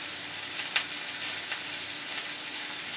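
Low-sodium soy sauce hits a hot pan and sizzles in a steady, close, bright hiss for a few seconds, with a few small crackles and no talking.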